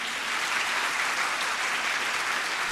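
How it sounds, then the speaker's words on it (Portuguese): A packed auditorium at a rural congress panel bursts into continuous applause, a thick steady wash of many hands clapping at moderate level for nearly three seconds. "Auditório lotado aplaude José Maria"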